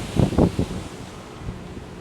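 Waves crash on a rough Sicilian shore with wind buffeting the microphone, a few loud surging bursts early on that settle into a steady wash of surf and gusts.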